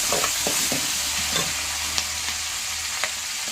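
Curry leaves and chilies frying in hot oil for tamarind rice, a steady close sizzle broken by a few sharp crackles and pops, with no voices.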